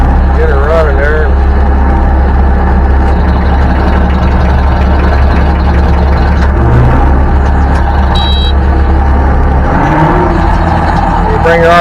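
Skid loader fitted with a brush hog, its engine running in the woods as a loud, steady low drone with some throttle changes, while someone talks over it.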